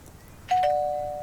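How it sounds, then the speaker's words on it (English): A doorbell in a drama scene sounds once with a two-tone ding-dong whose tones ring on and fade slowly, alone against a quiet room. "Ring that doorbell."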